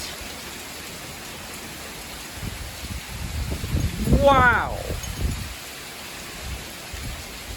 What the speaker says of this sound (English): This rain is really coming down hard.